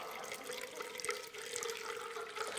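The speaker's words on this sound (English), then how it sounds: "Okay, it's an ongoing stream of water." A steady stream of running water flows continuously at low volume with faint trickling detail, no voices over it.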